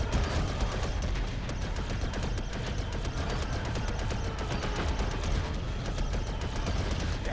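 Dense, continuous barrage of gunfire and explosions from the video game LEGO Star Wars, loud and sustained throughout, like a chaotic battle scene with rapid shots overlapping.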